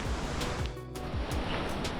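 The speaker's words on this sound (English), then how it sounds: "Today is pouring rain" Steady, dense roar of water on the Milford Track in New Zealand on a day of pouring rain, a constant close wash of rushing water and rain with no pauses.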